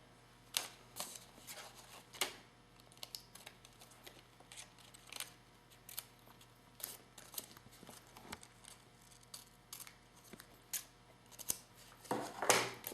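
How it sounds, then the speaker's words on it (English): Scissors snip and trim a paper mask for a stamping project, giving quiet, irregular cuts and light paper rustles scattered across the stretch, close but faint, with no talking. "I can take my scissors and then trim that up"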